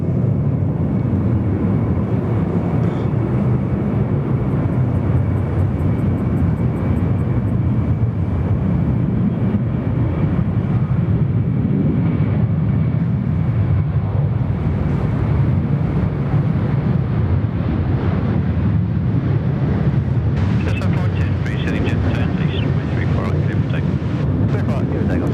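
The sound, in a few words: USAF KC-10 aircraft on the runway at Sydney Airport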